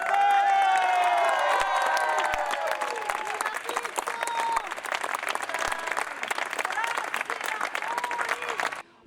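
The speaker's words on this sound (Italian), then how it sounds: "Un applauso al sindaco!" A crowd applauds and cheers a newly elected mayor outside a town hall. The clapping is dense, steady and fairly loud, with whoops and shouting mixed in, and a voice calls out briefly at the start.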